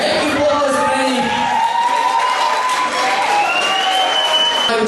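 Audience applause with a noisy crowd at a university breaking contest (FAPZ 2014), steady clapping and cheering filling the whole stretch, loud and close, with a few whoops and people talking over it.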